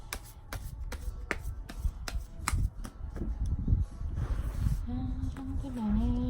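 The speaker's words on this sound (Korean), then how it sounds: "4번 카드 셔플 하겠습니다." Tarot cards being shuffled by hand, a rapid run of crisp snapping riffles close up, followed by a soft low hum near the end.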